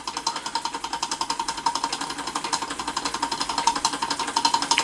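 A Stirlingkit Retrol SE-02 model steam engine drives a geared-down Ferris wheel with a generator attached, giving a steady, fast, even chuffing and ticking pulse that runs unbroken at a constant moderate level.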